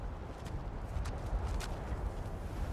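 Horse hooves clop faintly in Skyrim, a few soft, evenly spaced steps set under low game ambience.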